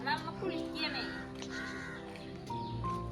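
Crows caw in harsh, repeated calls at moderate distance, mixed with talking and some background noise.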